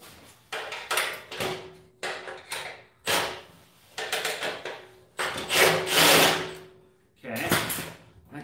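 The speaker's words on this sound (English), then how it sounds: "Wrench right here." A hand wrench works a bolt loose on an old vehicle, giving rhythmic metallic ratcheting and rubbing strokes in a series of short bursts with brief pauses, close and moderately loud.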